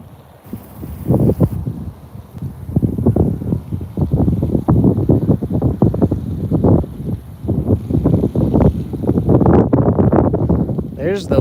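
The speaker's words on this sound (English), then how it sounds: "There's the wind now." Wind blows across a lake during a fishing outing, a low gusty rumble on the microphone running under a person talking steadily throughout.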